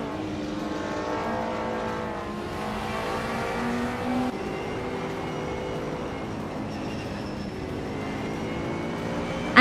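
A classic 1986 BMW M3 race car engine in a racing video game drones steadily alongside other cars, a sustained, moderately loud whine with shifting revs and no pauses.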